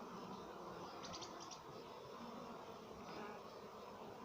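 Honey bees flying around their hives in an apiary on a spring morning, a steady close buzzing drone that carries through the whole stretch with no talk.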